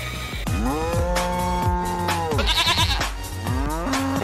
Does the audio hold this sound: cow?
yes